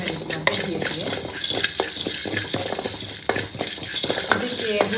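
Fenugreek seeds, cumin and black pepper dry-roasting in a pan with no oil, stirred continuously: a close, steady dry rattle and sizzle with frequent scrapes and clicks of a spoon against the pan.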